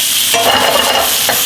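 Floured chicken sauteing in oil in a pan, a bright loud hiss with a brief flurry of stirring scrapes in the middle, close and without speech.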